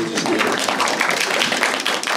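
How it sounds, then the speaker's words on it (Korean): Audience applause after a film Q&A screening event, a dense, steady wash of many hands clapping together in a hall, sustained at even loudness without pause. "그러면은 네 박수를 주시고요."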